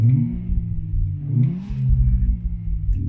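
A 2017 Renault Clio RenaultSport's simulated Laguna Coupe engine sound revs up and down, its low growl climbing in pitch twice with a brief rasp between.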